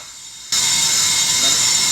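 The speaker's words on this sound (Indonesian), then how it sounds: "Menyenangkan melihat bagaimana mesin bubut bekerja pada permukaan logam disk brake yang sangat keras ini" Brake lathe machining a hard steel disc brake rotor from a Nissan X-Trail T32 with brake judder, a sudden loud, steady high-pitched grinding whine cutting in after a quieter moment and holding constant.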